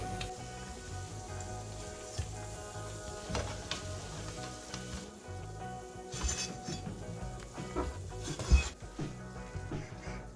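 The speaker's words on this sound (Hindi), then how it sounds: "पकौड़े ऑलमोस्ट फ्राई हो चुके हैं" Pakoras deep-fry in oil with a soft, steady sizzle beneath frequent close clinks and scrapes of a metal utensil against the pan. No one speaks.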